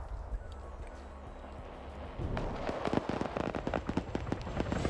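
Small arms gunfire in the video game Arma 3, a quick series of sharp cracking shots that starts after a quieter stretch and keeps going in an irregular, rattling burst.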